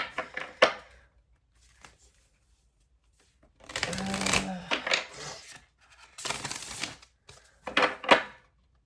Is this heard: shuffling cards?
yes